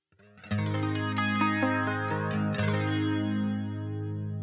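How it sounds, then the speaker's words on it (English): A sustained electric guitar chord shimmering with chorus and reverb on a Line 6 Helix Jazz Rivet 120 (Roland Jazz Chorus 120) amp model, ringing out steadily after a soft start, a second strum midway. "let's see what happens when we add the chorus into that"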